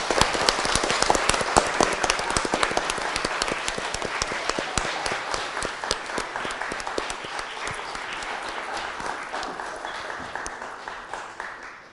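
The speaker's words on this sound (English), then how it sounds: "can we just give a round of applause just for everyone who earned something?" Scouts and families at a Troop 77 Court of Honor give a long round of applause, dense close clapping that stays strong and slowly tapers off.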